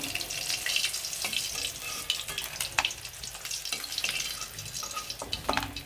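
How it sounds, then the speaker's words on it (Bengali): Onions dropped into hot oil after frying rohu fish crackle and sizzle loudly and close, with bursts of spatter and stirring scrapes across the span, and no talk. "এখন আমি পেঁয়াজটা তেলে দিয়ে দিতেছি,"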